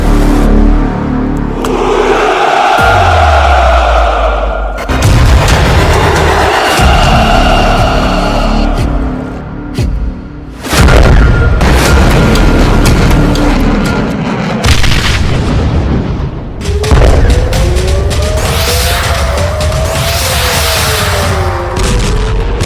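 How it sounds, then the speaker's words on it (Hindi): A barrage of missile explosions in a Ukrainian war zone: heavy booms and blasts crash one after another, loud and rumbling, with roaring engine-like noise and a few rising whines between impacts. "पुतिन की मिसाइल बौछार, यूक्रेन में भयंकर तबाही।"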